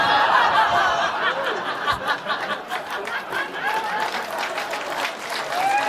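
A comedy club audience at a stand-up crowd-work show claps steadily, mixed with chuckles and scattered laughter, a dense close wash of applause lasting several seconds.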